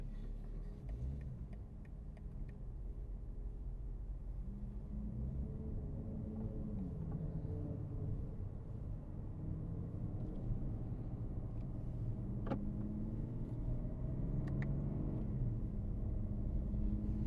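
A BMW M car's engine rumbles as it gathers speed on a racetrack: a steady, fairly faint low drone with a few light ticks.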